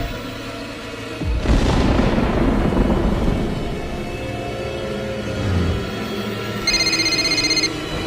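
A telephone rings in a Hindi action movie: a short, bright electronic ring near the end, after a heavy boom and a rumbling low background.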